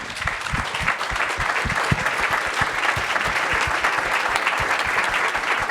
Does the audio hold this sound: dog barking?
no